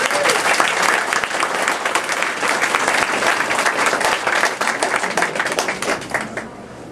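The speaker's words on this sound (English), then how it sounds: "So let's give her a big round of applause." A room at a governor's press conference breaks into sustained applause, dense clapping from many hands that holds steady before thinning out at the end.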